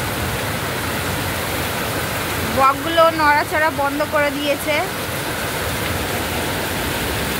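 Heavy downpour drums steadily over a flooded field in a constant, loud hiss, while someone speaks briefly in the middle over the rain.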